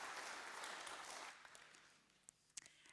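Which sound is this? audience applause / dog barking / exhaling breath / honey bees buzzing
audience applause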